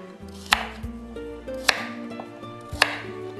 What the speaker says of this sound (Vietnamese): Mình sẽ cắt khúc xéo xéo như thế này. Cà rốt này sẽ làm nước lèo rất là ngọt luôn.